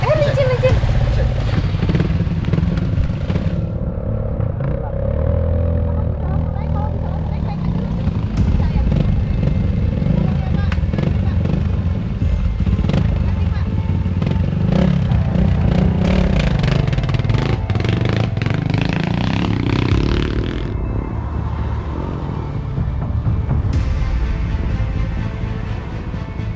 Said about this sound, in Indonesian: Mesin motor saya mati, ini lagi dibantu untuk dinyalakan kembali.